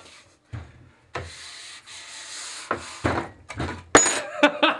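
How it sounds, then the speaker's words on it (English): A plastic scraper drags old wax off a ski base in short, firm strokes, about a dozen close, dry rasping scrapes separated by brief pauses and growing louder toward the end. "So you wanna be firm with it because you're obviously taking wax off your skis."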